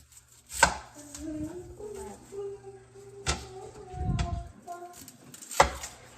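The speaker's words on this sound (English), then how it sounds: "we're going to cut off the parts that we don't need" A knife chops vegetables on a cutting board while noodles are prepared for lunch, a few sharp, separate strikes spaced irregularly, close and clear, with quiet kitchen handling sounds between them.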